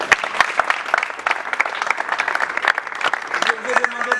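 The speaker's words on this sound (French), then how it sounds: "je vous demande d'applaudir pour vous-même" A youth audience at an official launch event claps for itself, a loud, sustained burst of many hands with sharp individual claps standing out, while voices rise and talk underneath near the end.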